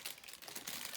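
Little plastic bag crinkling up close, a brief burst of crisp rustling crackles lasting about a second, with no talking.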